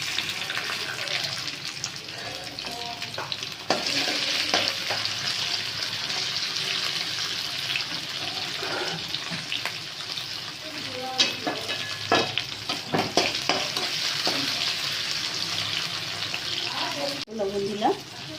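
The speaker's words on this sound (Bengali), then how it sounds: "তেলটাতেই আমি ক্যাপসিকামটা ভেজে নেব।" Capsicum fries in oil in a pan over a high gas flame for mixed fried rice, a continuous loud sizzle broken by clanks and scrapes of stirring.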